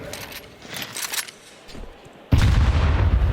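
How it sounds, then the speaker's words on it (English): A grenade goes off in a professional Counter-Strike match, striking with a sudden heavy boom that cuts off lighter metallic clicks and jangling and then keeps rumbling loudly to the end. "Fantastic grenade here from Tenier"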